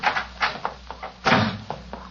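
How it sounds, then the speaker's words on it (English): A door slams shut in an old radio drama, Sherlock Holmes: a heavy wooden thump among a run of knocks and rattles, loud and close, with no talking over it. "She slammed the door in my face."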